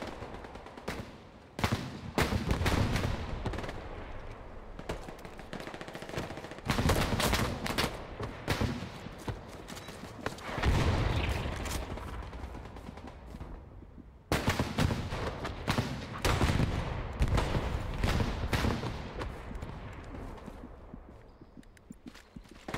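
Gunfire in Hell Let Loose, a World War II shooter: dense bursts of rifle and machine-gun fire crack repeatedly at varying distances, loud and sustained with brief gaps, and no talking.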